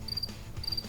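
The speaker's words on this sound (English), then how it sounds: "Apparently we're going to end with crickets." Crickets chirp in short, high, pulsed trills, two quick bursts separated by a brief gap, fairly clear over a low background hum.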